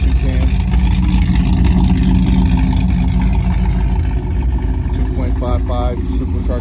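A supercharged Camaro fitted with an LSA blower, BTR stage 2 cam, J-pipes and a 2.55 supercharger pulley, its engine roaring loud and close, steady at first and then revving up, with voices under it.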